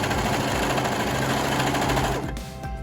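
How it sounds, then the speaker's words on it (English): A sewing machine stitching around the armhole of a one-shoulder top, a fast, even mechanical whir running close and steady before it tapers off near the end. "So I'm gonna go ahead and sew along the armhole"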